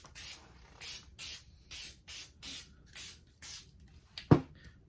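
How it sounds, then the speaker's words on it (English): Short, light hissing bursts of spray paint repeat about eight times in an even rhythm, followed by a sharp little click near the end. "spray over the top of this very lightly"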